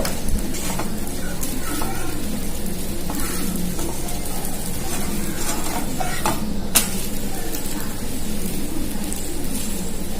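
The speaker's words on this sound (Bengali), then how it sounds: "আমি বাকিগুলোর মতো এইগুলো খুব ভালো করে চেপে চেপে ভেজে নেব" Oat flatbreads pressed down and frying in a pan, a steady close sizzle with repeated scraping and pressing sounds and an occasional sharp clink throughout.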